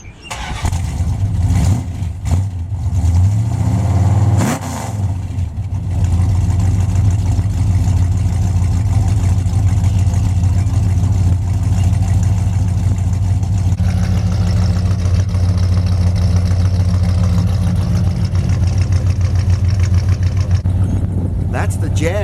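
A Plymouth 318 V8 engine with headers and a dual exhaust kit cranks and catches, then settles into a loud, steady, deep rumbling idle close by.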